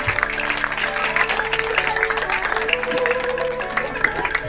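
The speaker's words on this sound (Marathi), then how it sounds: "आपले सर्व पाहुणे यांचे जोरदार टाळ्याने आपण स्वागत करूया" An audience at a gathering in a Buddhist vihara claps to welcome the guests, a sustained patter of many hands mixed with crowd noise and a voice over the sound system.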